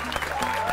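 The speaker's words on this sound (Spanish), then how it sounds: "les pido un fuerte aplauso para nuestros invitados" An audience applauds its guests on a Spanish-language comedy show. The clapping is brief and dense, with a voice speaking over it.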